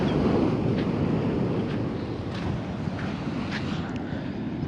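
Strong wind roars across the microphone in a continuous rushing gust at Danacbeach in Botolan, Zambales, with surf-like noise underneath and faint flapping of a tent, no voices.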